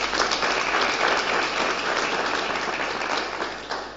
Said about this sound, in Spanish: ese gran aplauso para ellas